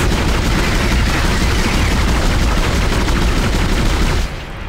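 Dense, continuous gunfire from a weapon in the horror game Dead Space roars without a break for several seconds, loud and close, then cuts off abruptly at the end.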